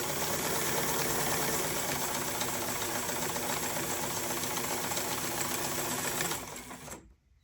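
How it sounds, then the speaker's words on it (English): An Adler 87 sewing machine running a zigzag stitch, a fast continuous mechanical whir with rhythmic needle chatter, loud and close, held steadily for about six seconds before winding down and stopping. "here we go with that zigzag stitch"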